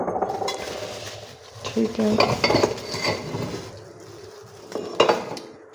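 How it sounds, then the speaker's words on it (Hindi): Newly bought dishes and drinking glasses clink and clatter as they are handled and set down, in irregular bursts close by, with someone talking between the knocks. "ये जी हम लोगों ने बर्तन लिए हैं"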